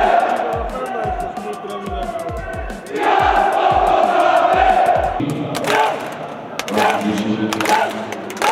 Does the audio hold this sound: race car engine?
no